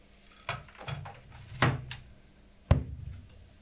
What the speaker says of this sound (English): we're gonna put the bass pedal here